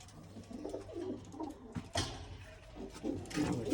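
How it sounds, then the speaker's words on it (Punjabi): Soft, throaty pigeon cooing repeats in low rolling phrases, close by, with a few light rustles and knocks in the background. "ਇਹ ਕਬੂਤਰੀ ਆ"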